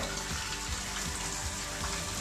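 Water runs from a tap into a large bathroom sink, a continuous close hissing splash at an even level, with no one speaking.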